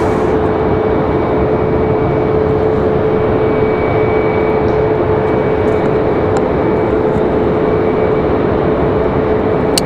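A FedEx airplane arriving from Memphis, Tennessee at Raleigh Durham airport gives a loud, continuous engine roar with a steady whine held throughout, close and unbroken.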